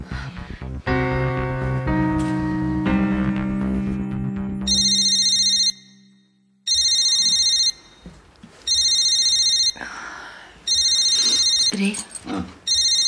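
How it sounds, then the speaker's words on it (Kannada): A mobile phone plays a loud, repeating electronic ringtone in bursts with short gaps between them, after a stretch of tonal music. "ನಿನ್ನ ಫೋನ್ ರಿಂಗ್ ಆಗ್ತಿದೆ ನೋಡಿ."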